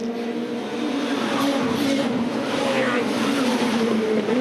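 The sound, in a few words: racing touring cars driving, WTCC race at Macau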